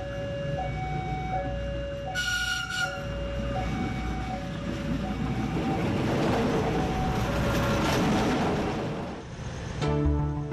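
Train rolling past a railway level crossing in Sumatra, with a crossing bell ringing in repeated steady tones, a horn blast, then a long loud rumble of wagons passing close before fading out.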